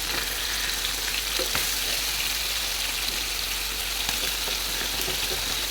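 Karimeen fish sizzle in hot oil in a pan, a steady dense crackle and hiss that carries on evenly and close, with a faint scrape or two.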